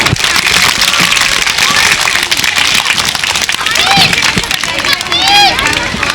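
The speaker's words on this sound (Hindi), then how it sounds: "एक बार और तालियां हो जाए बच्चों" Children clap together at a school's annual sports meet, a loud, dense burst of many small hands with crowd babble and a few high shouts and whistles near the end.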